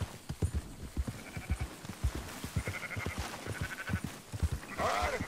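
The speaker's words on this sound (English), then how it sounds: "Herding sheep." Sheep bleat repeatedly from close range while a flock is herded in the video game Red Dead Redemption 2, several calls overlapping with hoof clatter and soft game ambience, with a brief voice now and then.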